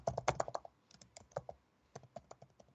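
Fingers type on a computer keyboard in quick irregular bursts of close, crisp key clicks, with a short pause in the middle and no talking.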